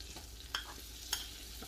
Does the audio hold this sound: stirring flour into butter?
yes